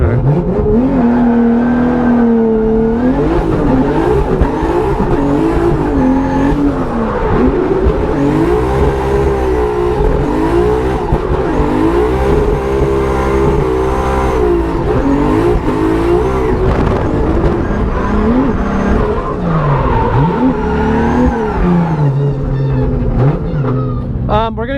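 A drift car engine revs hard through fourth gear, rising and falling in loud sweeping pulls with tire noise, close and continuous over the whole stretch.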